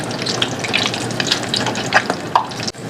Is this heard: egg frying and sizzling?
yes